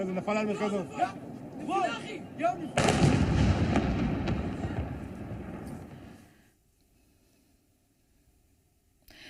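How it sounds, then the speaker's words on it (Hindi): Iranian ballistic missiles explode over Jerusalem. After wavering tones and voices, one heavy blast breaks out and rolls on as a loud, distant rumble for several seconds, then fades into near silence. "शहर में गिरते और जोरदार विस्फोट करते देखा जा सकता है"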